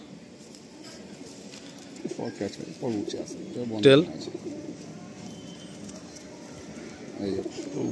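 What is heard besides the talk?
Madrasi pigeons cooing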